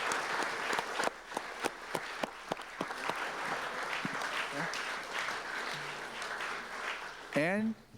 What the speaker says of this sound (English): So I'd like everybody just to give her a round of applause